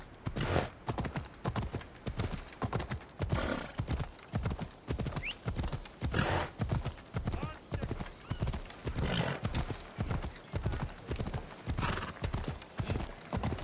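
Horse hooves gallop in Assassin's Creed Odyssey in a steady, rapid rhythmic clatter that is close and continuous, with a horse neighing.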